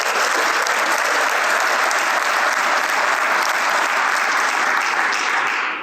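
An audience in a Toyota 4T Academy hall applauds panelists with loud, dense clapping that holds steady the whole time and trails off at the very end.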